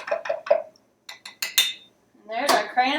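A spoon stirs cranberry water in a crystal pitcher, giving a run of bright glassy clinks and taps in short bursts with gaps, close and clear, ending in a swirl of liquid and clatter.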